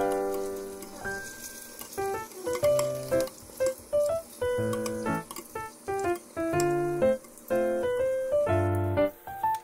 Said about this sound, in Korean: 핫도그와 같은 160도에서 갈색이 될 때까지 튀겨주세요.